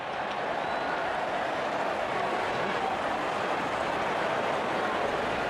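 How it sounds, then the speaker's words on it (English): A stadium crowd in the Real Cricket game cheers at a T20 match, a broad, steady roar of distant voices and clapping that holds at an even level throughout. "Openers walking in and the crowd cheering in anticipation."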